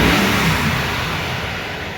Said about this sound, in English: I'm gonna rev it and you guys can hear.